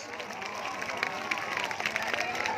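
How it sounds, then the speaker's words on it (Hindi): Applause and crowd noise from an audience at a village Maha Shivaratri gathering, a dense, steady wash of clapping with voices mixed in throughout. "समस्त जोरदार ताली हो जाऊ प्लीज"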